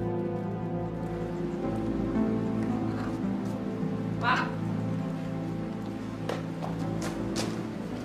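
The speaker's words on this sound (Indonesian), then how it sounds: "Bentar lagi juga hujan ini berhenti." Steady rain falls throughout, a continuous even patter with a few sharper drips and taps standing out near the end.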